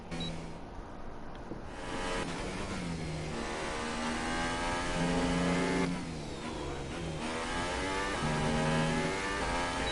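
A Formula 1 car in a racing game, driven without assists, accelerates hard, its high engine note climbing through repeated gear shifts in steady rising sweeps, loud and continuous with no talk.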